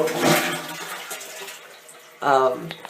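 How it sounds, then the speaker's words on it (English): A Japanese toilet with a hand-washing sink on top gets a brief flush, and the water rushes in a short burst near the end after someone talks first. "here, I'll just do a little flush"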